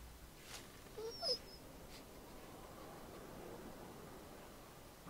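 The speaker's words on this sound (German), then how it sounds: "Ah, ein Hund." A dog whimpering in The Walking Dead video game, a few short faint whines and a brief high yelp over a quiet hissing background.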